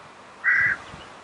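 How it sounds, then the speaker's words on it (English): A single loud duck quack from young, nearly mature ducks on a bank by water, one short nasal call lasting about a third of a second against quiet background noise. "new baby ducks have become quite mature"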